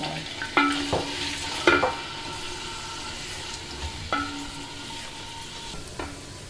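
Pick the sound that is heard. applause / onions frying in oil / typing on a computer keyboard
onions frying in oil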